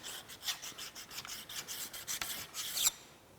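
Metal is deburred with a small sharpening stone during scraping work on a Monarch lathe compound slide, making a faint, rhythmic rasping rub in about a dozen quick close strokes.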